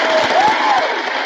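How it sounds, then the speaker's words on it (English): An audience applauds in a brief, loud burst of dense clapping, with a voice briefly heard over it. "Let's give her a round of applause also."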